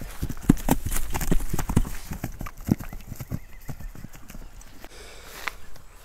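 Young sport-type horse walking with a run of clear hoof clops, near and fairly loud, fading toward the end as a soft whinny-like sound rises near the close.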